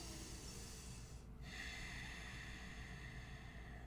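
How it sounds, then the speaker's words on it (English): A single throaty, raspy exhalation, the ujjayi-style ocean breath, is made close to the microphone against a steady low hiss and room noise, with a brief pause in the middle. "that's called ocean breathing"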